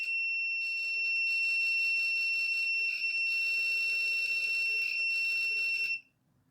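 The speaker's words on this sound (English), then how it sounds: "that squealing noise you hear is coming from the internal speaker in the tuner" An antenna tuner's internal speaker gives a steady, piercing electronic squeal with a faint warble, sounding for about six seconds and then cutting off, with no speech.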